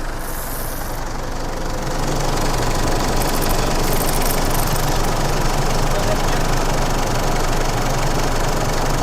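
A used car's warm engine idles after a drive, a steady, close, loud mechanical hum with a faint rattle, while people talk over it.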